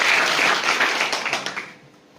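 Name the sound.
audience applause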